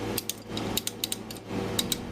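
A torque wrench ratchets while tightening spark plugs on a BMW N55 3.0L engine in an X3, a quick series of close, sharp metallic clicks in short irregular bursts, fairly faint.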